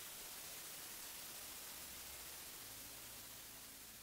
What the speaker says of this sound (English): Each sound sounds more and more like white noise or soft static and grows even louder